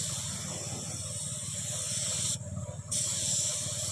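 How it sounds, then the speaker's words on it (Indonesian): A spray gun lays down epoxy primer in a steady, close, loud hiss that breaks off briefly for about half a second before resuming. "Ini melainkan penyemprotan epoksi atau pengepoksian disemprot."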